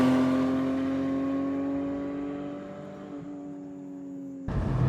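Porsche 718 Spyder with a six-cylinder engine and six-speed manual gearbox accelerating on a highway, a steady, smooth engine drone with rising harmonics heard from inside, holding loud and even before a sudden shift near the end.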